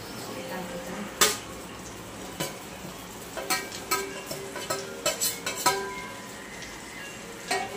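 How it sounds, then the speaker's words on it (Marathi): Okra sautéing in hot oil in a pan for stuffed bharali bhendi gives a soft, steady sizzle, broken by scattered spatula scrapes and metallic clinks that come in short bursts, with a louder knock near the start and end. "मस्त असं तेलात परतून घ्यायचा 5 मिनिट"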